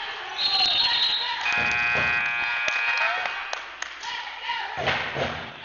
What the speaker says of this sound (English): And you hear the band and the cheer getting into it